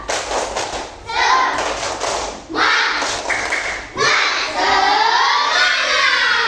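Elementary schoolchildren in a Medan classroom do a rhythmic group clap chant, loud and close, with bursts of thumping claps broken by short pauses and children's voices shouting along.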